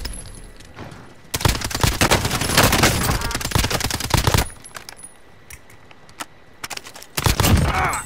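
Rapid bursts of video game gunfire, including pistol shots, fill the soundscape in loud dense volleys, then drop to scattered single shots before another heavy burst near the end.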